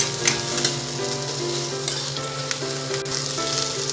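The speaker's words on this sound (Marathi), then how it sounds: "कांदा चांगला परतून घेऊ आपण." Onion sautés in a pan for a Malvani-style horse gram dish, giving a steady close sizzle with occasional light stirring scrapes and no talk.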